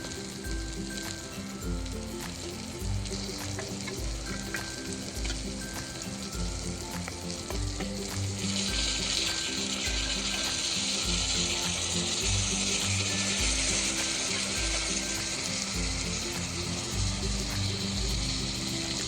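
Chicken pieces sizzle in a pan of Kashmiri collard greens (haak), a steady close frying hiss with occasional stirring scrapes and no talking.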